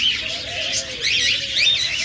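A pair of lovebirds for sale makes a quick run of high, bright chirps and squeaky calls, close and fairly loud, over a low room hum.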